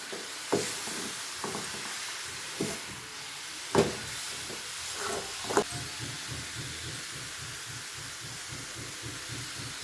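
Gram flour frying in oil while being stirred, giving a soft continuous hiss with intermittent scraping stir strokes and occasional sharper clicks, fairly quiet and without talk.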